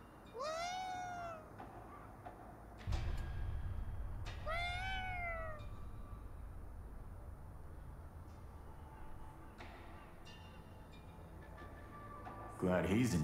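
Two distinct rising meows from a cat in Ghostwire Tokyo, clear and near, separated by a few seconds over a low ambient hum, with a voice speaking briefly.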